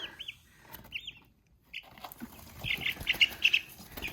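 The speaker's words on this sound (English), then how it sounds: "I think we have little black chickens." High, thin peeping of young black chicks, scattered at first then a quick cluster of chirps, close by with light rustling underneath.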